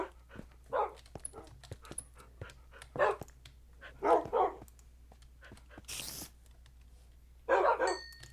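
Dog barking in the Minecraft video game, several short clipped barks in separate bursts with gaps between, close and distinct, plus a brief higher noisy sound midway.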